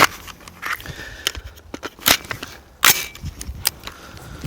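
A short-barreled firearm fitted with a hybrid muzzle device fires a few sharp shots. Abrupt, cracking reports ring out separately among clattering handling noise, with no talking.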